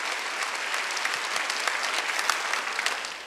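Church congregation at a Wednesday worship service applauding steadily, a dense wash of many hands clapping at even loudness throughout with no clear talk over it.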